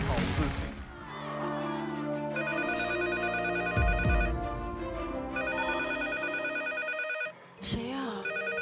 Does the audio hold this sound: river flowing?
no